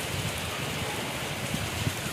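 Daytime rain pours steadily onto surfaces, a dense close hiss of drops lasting throughout with no talk.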